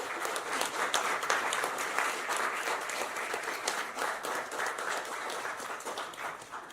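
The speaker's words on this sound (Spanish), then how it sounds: "Un aplauso a Fernando, grande." Sustained applause from an audience at a poetry festival in a convention and culture centre, a dense, even wash of many hands clapping continuously throughout, moderately loud and steady with no voices standing out.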